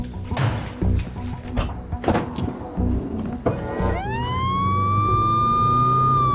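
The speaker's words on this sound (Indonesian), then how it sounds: "Menggunakan ambulan yang berada di sana menuju rumah sakit" Ambulance siren starting up and rising into a loud, steady wail that holds to the end, after a stretch of thuds, impacts and scuffling in a tense action scene.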